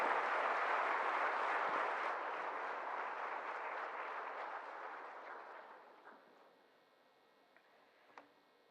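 Sustained applause from a large crowd at the National Teachers Awards ceremony for the President of India, loud at first and gradually fading away, ending in a few scattered claps.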